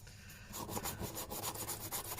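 Sandpaper rubbed back and forth along the edges of a mixed-media paper journal cover, a steady close scratchy rasping in quick repeated strokes, alone with no talk.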